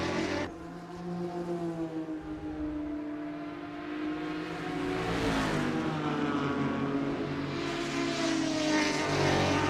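Porsche race car engines from a GT4 racing video game drone and rise in pitch, revving up through the gears with a steady, fairly loud whine and no talk.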